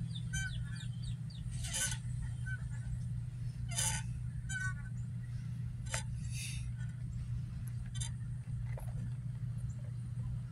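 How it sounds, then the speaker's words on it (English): Ducks call in a series of scattered quacks over a steady low hum, sounding moderately distant. "See the beautiful birds, guys?"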